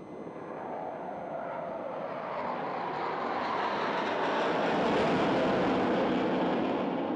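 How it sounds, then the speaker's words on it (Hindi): Navy fighter jets flying a figure-eight aerobatic manoeuvre at a Navy Day display in Sindhudurg, Maharashtra, make a loud, continuous roar that swells steadily as they pass close overhead. "चीते की भांति हमला करने वाले ये हवाई विमान पैंथर्स अपने नाम को पूर्णतः चरितार्थ करते हैं"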